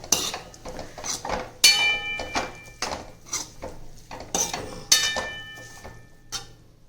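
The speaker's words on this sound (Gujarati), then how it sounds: "હવે આપણે તેને મિક્સ કરીશું." A spoon scrapes and clinks against a pan while bhindi masala with aloo, tomato and coriander is stirred, in a steady run of close metallic knocks and sharper rings with no talking.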